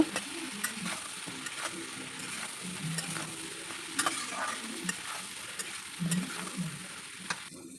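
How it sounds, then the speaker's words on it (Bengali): A spoon or spatula stirs taro (kochu) with salt, turmeric and cumin powder in a hot pan, a steady low sizzle with scraping strokes, close and alone, with no one talking. "লবণ হলুদ জিরে গুঁড়ো দিয়ে একটু ভালো করে সবগুলো মশলা একসঙ্গে মিক্সড করে নিয়ে নেব"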